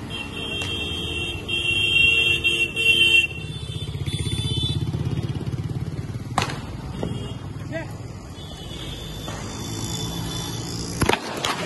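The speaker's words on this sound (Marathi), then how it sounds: "गाडी बघा मागे, गाडी खाली जाशील" A motorcycle engine passes close behind on a road, a mid-level droning hum that swells and fades over a steady outdoor background, with people talking throughout.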